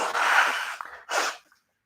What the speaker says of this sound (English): Let me blow my nose again.